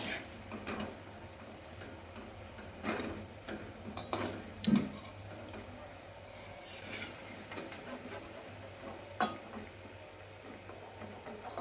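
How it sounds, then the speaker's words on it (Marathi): Round onion bhaji fritters fry in oil with a moderate, steady bubbling sizzle. Intermittent taps and scrapes of a utensil against the pan are scattered through it. "आपल्याला असं थोडं थोडं करून तळून घ्यायचं आहे"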